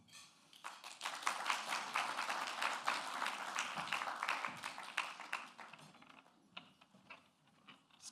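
An award ceremony audience claps in a dense, steady burst of applause that thins out into scattered claps toward the end.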